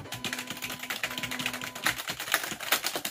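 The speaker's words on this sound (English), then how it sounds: "Oh yes, I can type fast." Rapid typing on a computer keyboard, a dense run of quick, close clicks and taps with a steady low hum in the background and no voices.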